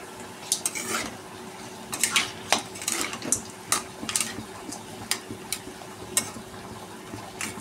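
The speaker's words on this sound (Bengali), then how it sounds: "ঝিঙে ভাজাটার সাথে ভালো করে টমেটো আর আদা জিরে লঙ্কার পেস্টটা ভালো করে কষিয়ে নেব" A spatula scrapes and clinks against a pan as ridge gourd and tomato fry with ginger, cumin and chilli paste. The sharp, irregular knocks sit over a faint low sizzle.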